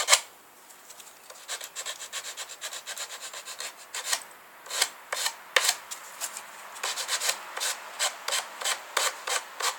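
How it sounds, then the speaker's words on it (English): Hand sanding of a wooden pin nock on a bow with 120-grit paper: repeated close, raspy rubbing strokes, irregular at first and then settling into a steady rhythm, with no voice. "Did I mention I like sanding?"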